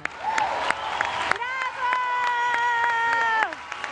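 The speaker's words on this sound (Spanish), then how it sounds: "al cual le pido un enorme aplauso." An audience claps for a pianist at a music academy show. Steady applause with sharp individual claps runs under a loud voice with sustained tones throughout.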